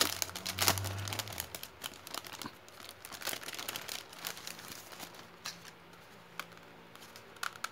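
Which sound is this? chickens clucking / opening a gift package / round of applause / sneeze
opening a gift package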